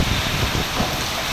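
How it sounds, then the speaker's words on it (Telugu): Strong wind gusting through trees during a heavy rainstorm at a church, a dense, loud roar of rushing air and rain with no voices. "తాళమోపురం అసలు గాలులు చూడండి"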